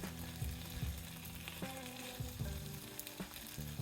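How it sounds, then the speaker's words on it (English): Chicken dumplings sizzle in a hot pan with a steady, dense crackle of frying oil, broken by occasional soft clinks and shifting pops, close and unaccompanied by talk. "Now I am going to let this cook for 1 to 2 minutes until we have nice color at the bottom"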